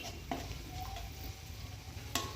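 Quiet sizzling of cumin in hot oil in a wok with onions pushed aside, a soft steady crackle with a couple of light clinks of a utensil against the pan.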